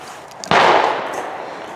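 A single close, loud shotgun blast fired at a sporting clay target on a clays course, with a sharp crack followed by a decaying echo tail.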